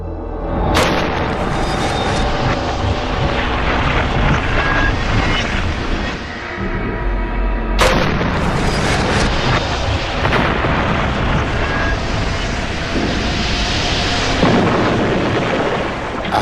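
A de Havilland Comet fuselage model pressurized to 8¼ pounds and deliberately ruptured in a test chamber, producing a loud, continuous roaring rush of escaping air with two sharp bursts.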